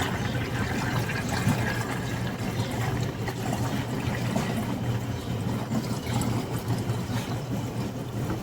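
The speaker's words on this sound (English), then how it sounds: "I'm just going to fill this up again with just water." Water runs steadily into a container for garden fertilizer mixing, a continuous rushing, gurgling flow heard close and alone without pause.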